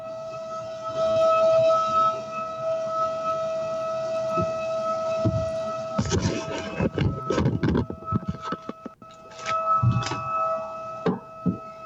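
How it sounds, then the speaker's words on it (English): An air raid siren or tornado alarm holds a steady wailing tone, joined midway by rapid clattering, ticking mechanical noise that continues to the end. "Air raid siren."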